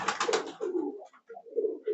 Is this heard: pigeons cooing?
yes